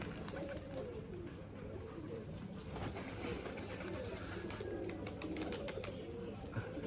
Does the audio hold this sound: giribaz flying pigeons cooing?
yes